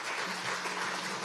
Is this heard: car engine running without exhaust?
no